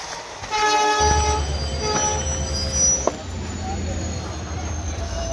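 A train arriving at Kamakhya railway station, with a loud steady low rumble of wheels and carriages, tonal horn or announcement tones early on and a sharp clank near the middle, continuing as a busy platform din.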